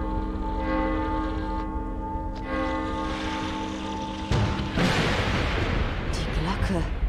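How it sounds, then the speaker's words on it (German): A heavy bell tolls in the horror game The Evil Within, sustained ringing tones layered over a dark ambient drone, followed by a loud booming impact and rumbling noise. "Die Glocke, sie zieht sie an."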